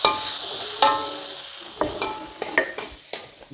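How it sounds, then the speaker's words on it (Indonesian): Nasi goreng being stirred and fried in a pan: a steady sizzle with repeated close scraping and clinking strokes of the spatula against the pan, loud and alone without talk. "Masak sego goreng bersama Simbo"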